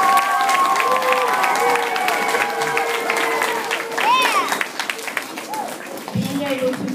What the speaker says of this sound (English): You need another round of applause.